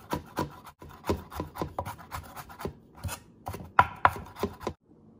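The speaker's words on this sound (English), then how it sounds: "you're gonna make them little cubes, very tiny chop" A knife chopping ingredients into tiny cubes for larb on a cutting board, a rapid run of crisp close thuds in uneven rhythm, with a brief pause midway and a short scrape at the end.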